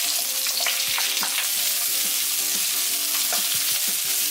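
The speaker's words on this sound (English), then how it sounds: "I'm going to fry onion first." Onions sizzle and crackle in a hot pan while being fried for Korean tteokbokki, with repeated scraping and stirring clatters, loud and close.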